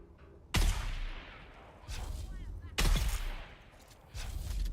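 Gunshots in the video game Dune: Awakening: two sharp, loud shots about two seconds apart, each followed by a rumbling tail, with further dull thuds in between.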